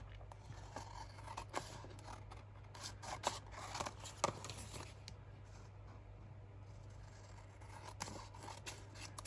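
Faint, close scissors snip scrap paper in a quiet room, a handful of light irregular cuts spread across the clip over a low steady hum.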